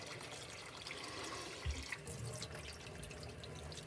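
Cold tap water runs quietly and steadily over cooked pasta in a sink, a soft splashing stream with a brief gurgle partway through.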